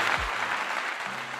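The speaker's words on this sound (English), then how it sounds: "Here's the clap." A brief burst of clapping, likely a sound effect, plays steadily for over a second with a low thump near the start, cutting in during a talk-show discussion.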